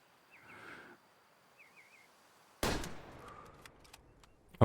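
A single loud, sharp hunting rifle shot in the video game Way of the Hunter cracks out with a decaying tail, preceded by faint bird calls and insect chirps in a quiet outdoor scene, followed by another abrupt burst at the end.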